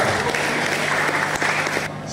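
Audience applause at a pesantren anniversary education seminar in Serang, a dense steady wash of many hands clapping that holds throughout, with a faint underlying hum, then thins slightly near the end.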